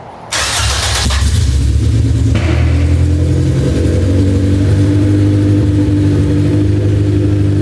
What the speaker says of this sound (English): show me what you're doing to start the car up